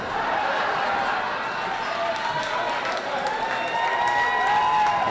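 An audience at a comedy benefit show breaks into steady applause that holds at an even level throughout, with a few cheers mixed into the clapping.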